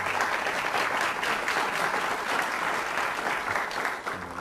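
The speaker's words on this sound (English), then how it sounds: "Round of applause to you as well." Studio audience on the Countdown game show gives a round of applause, dense, even clapping that holds steady for several seconds before starting to fade.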